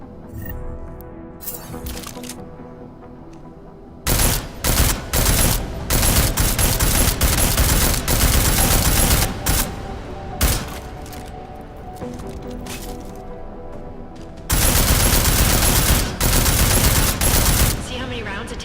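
Rapid gunfire from Deus Ex: Mankind Divided strikes an armored target, with dense bursts of shots in several loud volleys separated by quieter gaps, close and harsh.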